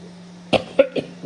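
A short burst of three quick coughs close to the microphone, followed by a faint throat sound, over a low steady hum.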